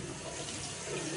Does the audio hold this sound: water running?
yes